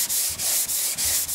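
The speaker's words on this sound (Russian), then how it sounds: "Берем на брусок 240." Steady back-and-forth hand sanding with a 240-grit block on a car body panel being prepped for paint, rhythmic strokes about every third of a second, close and loud with no talk.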